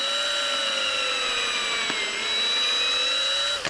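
A power drill bores out a Ripsaw snowmobile track to fit screw-in iGrip studs, giving a close, steady, high whine whose pitch sags slightly under load before cutting off at the end.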